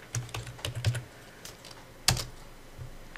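Several quick keystrokes on a computer keyboard while entering a command in CAD modelling software, a brief run of taps followed by a sharper isolated key press, close and fairly faint.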